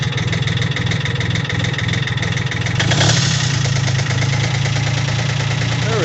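A 1980 Kubota diesel engine idles steadily nearby, its even, low knocking chug continuing throughout without a break at moderate loudness.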